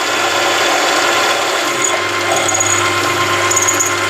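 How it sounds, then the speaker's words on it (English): A power drill with an 8mm bit whines steadily as it bores a pilot hole into a CV joint, loud and close, running continuously without pause. "This is an 8mm drill bit."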